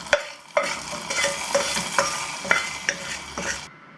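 Fried onion vadagam tempering is stirred into a pot of Tirunelveli sothi curry, with a soft sizzle under several sharp metallic clinks of a spoon against the vessel, close and fairly quiet, with no talking.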